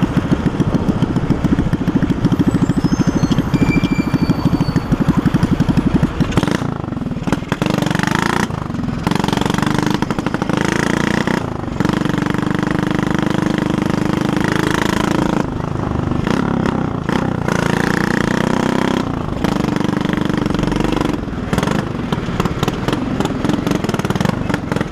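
A motorcycle with a broken exhaust roars and revs loudly up close, with repeated throttle blips and sharp drops between bursts, a rough popping engine throughout.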